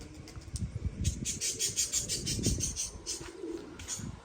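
Pigeons coo in a loft at dusk, several birds giving soft repeated throaty coos and burbles nearby, overlapping in a gentle uneven rhythm with faint chirps behind.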